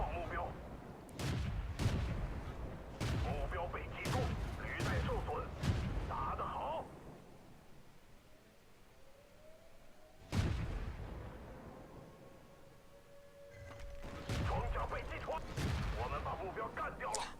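Tank cannon shots in a video game tank battle, several heavy booming blasts spread through the stretch with echoing decay, with a voice talking over much of it.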